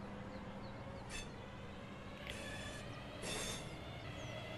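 A long train rolls past in Train Sim World 3 on a Manchester to Glossop route, a low rumbling roll with several sharp bursts of wheel squeal and clatter, fairly quiet and without talk.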